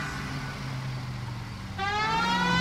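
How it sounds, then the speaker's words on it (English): A police car siren in the video game L.A. Noire begins wailing after a steady engine hum, its rising tone loud and close. "Just put the siren on for no reason."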